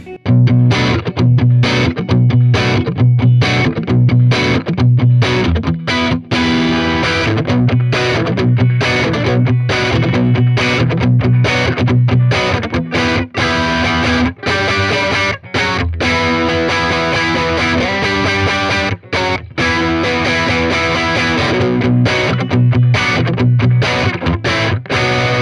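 Heavily distorted electric guitar chugs and rings out continuously, thick and loud, with rhythmic palm-muted bursts and sustained crunchy chords.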